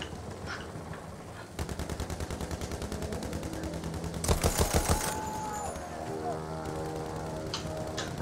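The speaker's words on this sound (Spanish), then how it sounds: "Soy la ametralladora" An aircraft-mounted machine gun in Battlefield fires two sustained rapid bursts, a steady rattling stream followed by a louder, closer burst, with someone talking over the engine drone in between.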